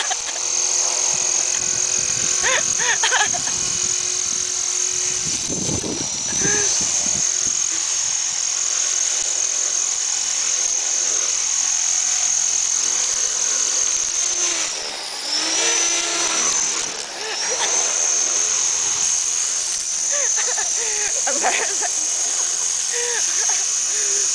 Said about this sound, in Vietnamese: Đây là một cái máy cắt cỏ hiện đại do anh Tệ sáng chế.